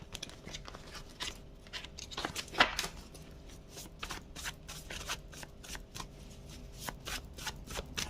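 A deck of message cards is shuffled up close in a quiet room, with a rapid run of crisp riffling snaps and light slaps that come in uneven bursts.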